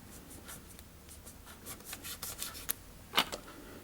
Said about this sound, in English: Now I'm going to take the razor and I'm going to cut the plow on there.